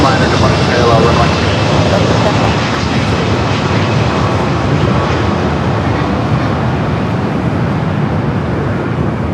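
Boeing 787 Dreamliner jet taking off from a parallel runway at Los Angeles airport, a loud, steady engine roar that holds through the whole stretch.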